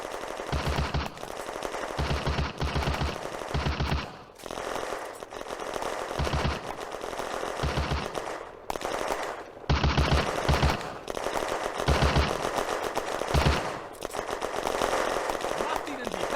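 Machine gun fire in a WWII Eastern Front video game battle, aimed at a squad from the southern woods: repeated loud automatic bursts in a steady rhythm, with voices shouting in German between the volleys.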